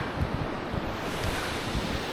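Water rushing continuously through channels into a waterfall at a large thermal spa hotel, a steady, dense roar with a low rumbling undertone, close and unbroken throughout.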